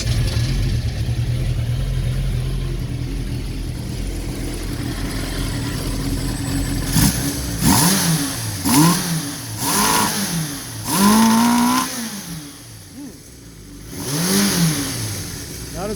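Honda N600 engine with rebuilt carburetors catching and starting after a few seconds of cranking, then revving repeatedly in rising and falling surges of throttle, close by.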